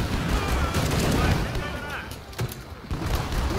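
Rapid gunfire in the video game Killing Floor 2: dense bursts of close, loud shots crackle through the whole stretch, briefly thinning before resuming.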